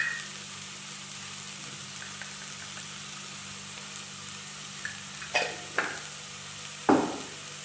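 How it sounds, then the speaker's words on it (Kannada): Onions fry in a pan with a pinch of turmeric for tomato chitranna, a steady soft sizzle broken by a few brief scraping stirs toward the end. "ಈರುಳ್ಳಿ ಫ್ರೈ ಆಗಬೇಕಾದ್ರೆ ಒಂದು ಚಿಟಕಿ ಅರಶಿನ ಹಾಕ್ಬೇಕು"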